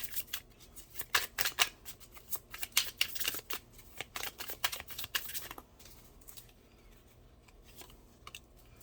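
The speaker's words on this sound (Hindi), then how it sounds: "2 कार्ड निकालूंगी।" Tarot cards are drawn and shuffled from a deck, a cluster of quick papery flicks and slides up close, busier early on and then thinning to sparse soft rustles.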